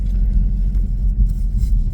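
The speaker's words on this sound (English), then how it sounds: "The growl is loud." Chevrolet Camaro ZL1 engine growling while driving, a loud, steady low rumble from inside the car with slight swells in throttle and no talk over it.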